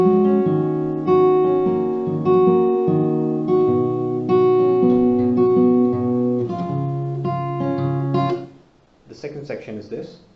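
Acoustic guitar plays a section of a song: steady plucked and strummed chords with quick muted string stops, close and clear, alone for about eight seconds before a short trailing bit of sound.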